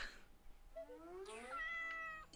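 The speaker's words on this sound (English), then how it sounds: "thank you for playing the meow" A single drawn-out cat meow alert sound, rising then falling, clear and fairly close over a faint background.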